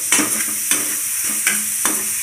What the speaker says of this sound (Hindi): और इसको भूनना है थोड़ी देर तक